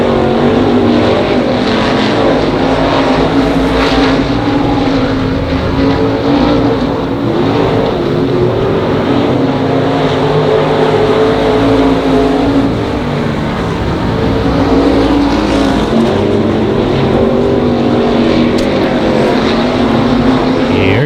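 Race cars circling the Monarch Motor Speedway oval, a continuous loud engine roar that swells slightly as the pack runs down the back straightaway, steady throughout with no talk over it.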